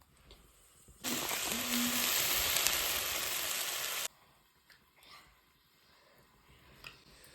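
Lai greens and potato vegetable curry frying in a pan, a loud burst of sizzling that lasts about three seconds and then stops abruptly, leaving faint stirring and handling noises.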